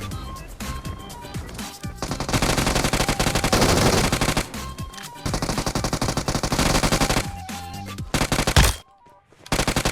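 UMP submachine gun fire in the mobile battle-royale game PUBG Mobile: loud, rapid automatic bursts that run almost continuously, broken by a few short pauses and a brief near-silent gap near the end.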